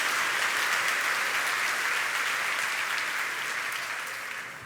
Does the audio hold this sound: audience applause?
yes